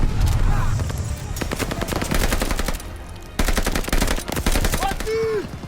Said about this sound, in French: encerclez cette mitrailleuse